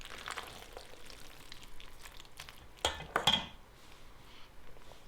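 A spoon works shredded cheese through a pot of luxury macaroni and cheese, soft sticky stirring with a few quick metallic clinks against the pan in a short cluster midway, fairly quiet and close.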